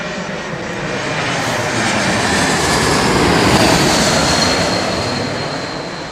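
An Airbus A220 passes at London Heathrow Airport, its engines making a loud, steady jet roar that swells toward the middle and then fades slightly, heard alone without talk.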